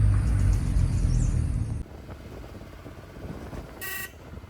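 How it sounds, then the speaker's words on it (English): Tuk-tuk auto rickshaw ride in Kumarakom, Kerala, a steady close engine drone and road rumble that drops away partway through, followed by a brief horn toot near the end. "we got ourselves a tuk-tuk, or an auto rickshaw as they call it here"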